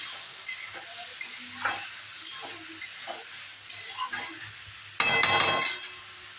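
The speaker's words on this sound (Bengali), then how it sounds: "দিয়ে ভালো করে আবার নাড়াচাড়া করবো" A spatula turns okra and potatoes frying with cumin powder in a pan: repeated scraping strokes over a steady low sizzle, with a louder, hissing burst of frying near the end, close and clear without voices.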